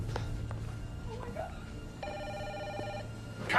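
A telephone rings in a single burst of about a second, moderately quiet under a steady low background hum.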